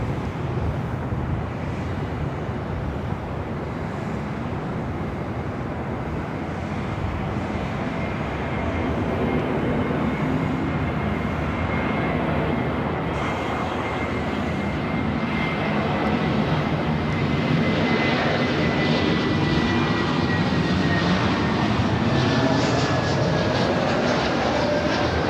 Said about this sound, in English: The flight coming in from Newark, A321